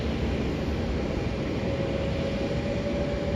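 A Vietnam Airlines flight from Ho Chi Minh City arrives at Melbourne airport, its engines a broad, steady roar with constant rumbling noise and no break.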